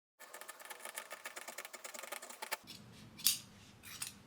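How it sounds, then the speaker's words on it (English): Scissors trimming the 3/8 inch seam allowance on sewn chore jacket collar pieces: a quick run of crisp, rhythmic fabric snips for about two seconds, then a few scattered, sharper cuts close to the microphone, with no talking. "Then I trimmed the seam allowance"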